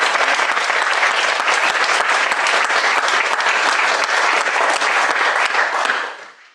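Graduation ceremony applause for a staff member: a large crowd claps loudly and steadily for about six seconds before the sound quickly fades out.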